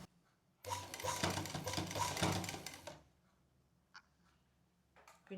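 Sewing machine stitching pleats into fabric in one steady rattling run of about two seconds, then stopping, followed by a few faint clicks and handling sounds.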